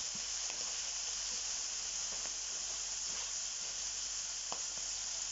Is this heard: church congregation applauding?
no